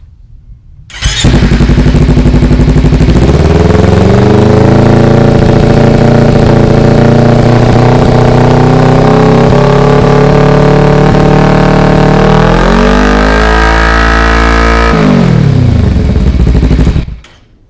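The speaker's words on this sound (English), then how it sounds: "So that's what it sounds like with the baffle in" A motorcycle fitted with a Coffman's shorty exhaust with the baffle in, started and held at a steady loud rumbling idle for about fourteen seconds, with a brief rise in revs near the end before shutting off.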